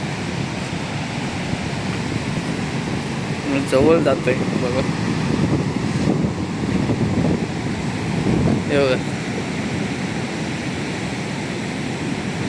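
Surging sea waves at Ganpatipule beach after a stormy night, a continuous broad roar and wash of surf close by, with someone speaking over it in bursts.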